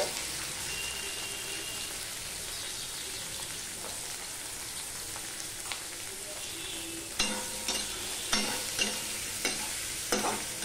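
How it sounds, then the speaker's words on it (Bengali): Soft continuous sizzle of potatoes and onions frying together in a pan, with several sharper spatula knocks and scrapes near the end; no voices. "আলু আর পেঁয়াজ একসাথে ভাজা হয়ে যাবে"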